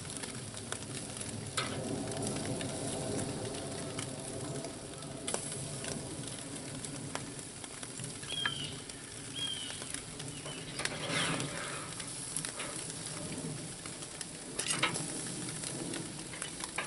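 Rabbit meat browning on a backyard barbecue sizzles steadily with a dense crackling hiss, punctuated by occasional sharper pops and faint scraping, with no talking.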